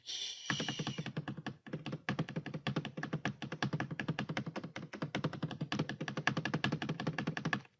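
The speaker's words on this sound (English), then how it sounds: "Start typing test, please." Rapid continuous keystrokes on a computer keyboard during a typing test, close and crisp, with a brief pause near the start and otherwise an unbroken clatter.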